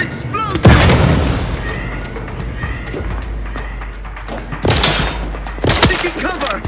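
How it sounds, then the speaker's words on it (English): An explosion in the video game The Outer Worlds 2 bursts loud and close, followed by a rumbling tail and two more sharp blasts a few seconds later, with in-game voices mixed in. "An explosion!"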